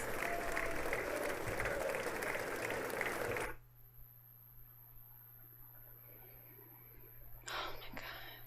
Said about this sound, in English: Is that long applause for me?